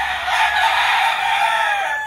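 A fighting rooster crows in one long, loud, continuous call lasting about two seconds, close by and alone with no talking.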